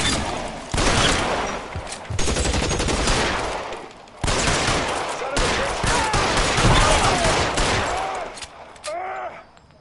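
Video game gunfire in L.A. Noire comes in several dense, rattling bursts of rapid shots separated by brief pauses, with a faint voice toward the end.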